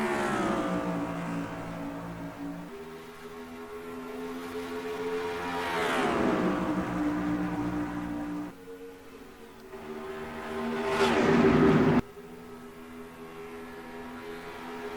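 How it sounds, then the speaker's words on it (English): ARCA Series race cars roaring away at the green flag at Charlotte Motor Speedway in NASCAR Racing 2003, layered engines climbing in pitch as they accelerate, with rising and falling passes and gear changes, loud and close, no talking. "let's go green flag racing at Charlotte Motor Speedway for the Jegs 150"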